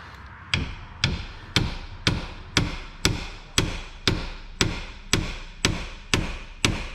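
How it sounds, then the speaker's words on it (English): A hammer gently taps a socket on a Jeep Cherokee engine during valve cover gasket replacement in a slow, even rhythm, about a dozen sharp metallic knocks spaced half a second apart, close and fairly loud. "I am probably going to have to gently tap this with a hammer a couple times"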